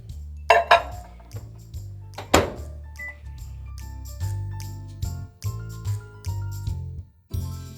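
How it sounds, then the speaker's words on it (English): Spoon stirring partly melted chocolate chips in a bowl, producing clinks and scrapes against the dish with a few louder knocks, close and uneven, with no talking. "I'm gonna stir them up and they are not ready yet."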